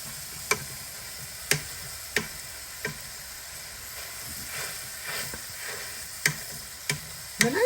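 Jimmy Dean sage sausage cooks in a pan, giving a steady soft sizzle and hiss broken by several sharp clicks and scrapes of a utensil, fairly quiet and close, with no talk.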